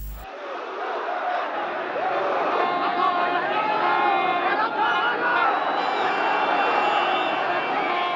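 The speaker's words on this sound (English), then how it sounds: "There are many videos of him entering Tehran and being saluted by the crowd." A large, dense crowd roars and chants in the streets of Tehran as the leader of the 1979 revolution enters the city, a sustained loud mass of voices with shouts and cheers rising through it.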